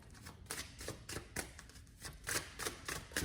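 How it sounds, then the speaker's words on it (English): Tarot cards being shuffled in piles, heard as a rapid run of close, crisp riffling bursts in a quiet room, with no talk. "So I'm going to go ahead and shuffle your 3 different piles"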